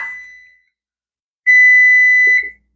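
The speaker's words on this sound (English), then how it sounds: "We'll hear the timer go off." An oven timer goes off while a frozen pizza bakes, giving a fading electronic beep, a pause, then one loud, steady, high-pitched tone lasting about a second before it cuts off.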